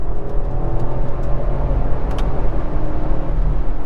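A BMW X5 with a conventional automatic accelerates in sport mode, heard from inside the cabin as a loud, steady engine drone with road rumble that holds throughout.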